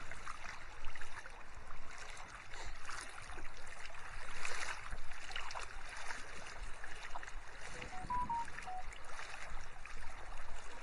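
Floodwater runs strongly through a flooded village, a continuous rushing, hissing wash heard close and steady from start to finish, with a brief faint tonal chirp near the end.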